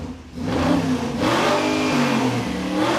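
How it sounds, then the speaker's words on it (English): A muscle truck's engine, running again after an ignition wiring fix with a jumper wire bridged across the circuit, revs up from a lull into a strong, steady mid-pitched roar with rising and falling pitch, close and loud. "it's pretty clear that it's revving up really nice now"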